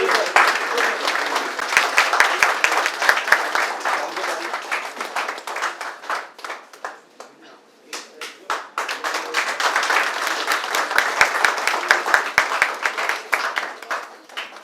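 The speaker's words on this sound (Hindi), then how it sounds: "जोरदार ताली हो जाए" An audience applauds an award winner at a business recognition event in a hotel, with sustained clapping that briefly dips, then swells again and continues.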